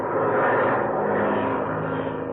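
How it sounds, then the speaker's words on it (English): Steady, loud drone of a propeller airplane engine as the plane pulls up and dives in a radio adventure drama, continuous throughout with no voices. "All right, now I'm pulling up, and then down we go, right in front of them."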